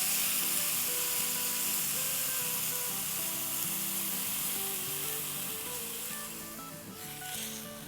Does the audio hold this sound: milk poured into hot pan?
yes